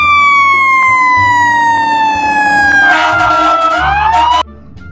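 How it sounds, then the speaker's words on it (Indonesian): A toy fire truck siren wails loudly and close, its pitch sliding down and back up before cutting off abruptly. "kalau yang ini mobil damkar"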